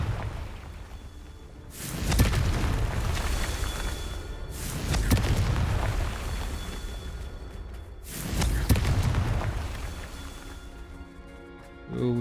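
Three fire-spell explosions from the video game Hogwarts Legacy, each a sharp burst followed by a rumbling roar that fades over a couple of seconds, spaced roughly three seconds apart.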